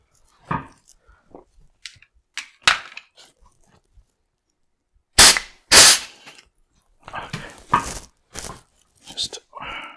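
Tokyo Marui MP7A1 gas airsoft gun firing in short sharp bursts and single pops, some louder cracks, spread through the clip with pauses between; a voice speaks briefly in between.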